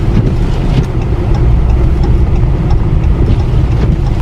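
A car's cabin rumble rolls on steadily while creeping through snowstorm traffic at about 10 mph, a loud, constant low drone of engine and tires on the road, with no voices.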